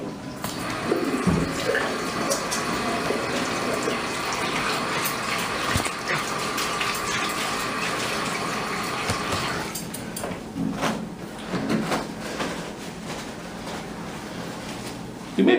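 Toilet flushing in a restroom, a loud sustained gush of rushing water that runs for about ten seconds before tapering into quieter refilling trickles, heard close with no talk over it.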